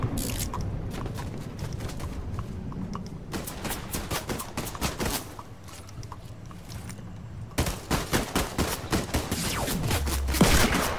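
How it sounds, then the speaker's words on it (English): Fortnite gunfire, including revolver shots, comes as many sharp cracks in rapid clusters, with a brief lull in the middle before another dense run of shots, all close and fairly loud over game background noise. "I just headshot this guy with a revolver, and he's dead."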